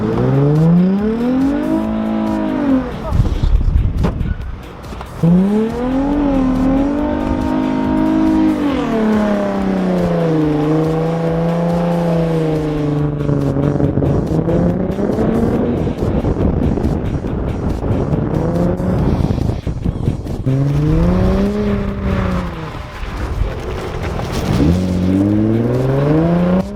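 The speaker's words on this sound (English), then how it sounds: "He also got a run in Kirsty's 350Z" A Nissan 350Z skids at a Datsun club motorkhana, its engine revving up and down in repeated rising and falling sweeps, loud and close throughout with no talk.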